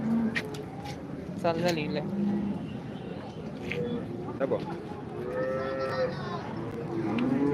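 Cows low at a busy cattle market in Modnimb, a few drawn-out moos rising over crowd chatter, nearby voices and passing traffic.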